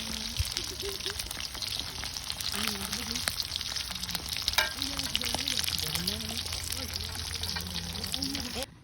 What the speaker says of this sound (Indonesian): sekarang kita lanjut goreng ayam. Chicken wing.